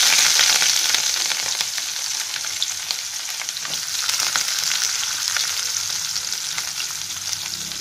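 Curry leaves and onions frying in a pan for sunda vathal kuzhambu, a bright, close, continuous sizzle and crackle, loudest at the start and settling slightly, with no talking.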